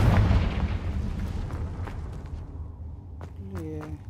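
A Confringo fire spell in Hogwarts Legacy goes off with a loud booming burst at the start, then a rumbling blast that fades over a few seconds. A player's voice is heard near the end.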